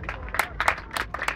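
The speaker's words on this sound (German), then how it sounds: "Hier Applaus für die Anna." An audience applauds a young artist named Anna at a harbour festival show, with a short burst of scattered, moderately close hand clapping.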